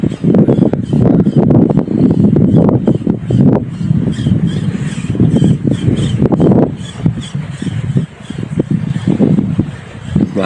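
Gusty wind buffets the microphone while fishing with an ultralight Shimano Twin Power 1000 reel in Abu Dhabi, coming in loud, uneven rumbling surges with brief lulls.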